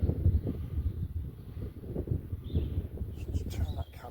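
Wind gusts across an open model-glider flying field, a steady low rushing roar buffeting the microphone throughout, with faint rustling and distant bird sounds.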